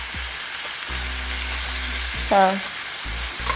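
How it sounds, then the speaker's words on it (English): Chicken sears in a hot pan with a constant loud sizzling hiss, a brief burst of stronger crackle midway, and a low background hum, with a single short spoken word near the start. "And then we are going to add in our chicken. We're going to pan sear that for about 3 minutes per side."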